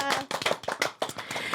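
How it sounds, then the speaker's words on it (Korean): A small group of people clapping, quick uneven bursts of close handclaps over a short moment, with brief voices mixed in. "우리 박수 한번 또 한번 칠까요?"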